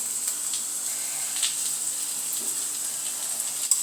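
Potatoes fry in a hot pan with a steady, close sizzle that holds evenly throughout, with a few small pops and crackles and no talking.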